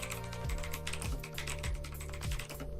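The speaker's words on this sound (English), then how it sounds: "you can hear that this is mechanical keyboard only by typing, because the typing is pretty loud" Rapid, steady typing on a Koolertron Z-77 mechanical keyboard, loud and close, with dense overlapping key clacks and a few heavier thumps roughly every half second.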